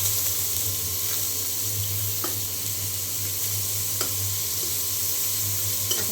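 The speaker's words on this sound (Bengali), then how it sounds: "এখন পেঁয়াজটাও ভেজে নেব" Chopped onion and dried red chillies fry in mustard oil, a constant close sizzle with occasional sharp spatula taps against the pan, no voices.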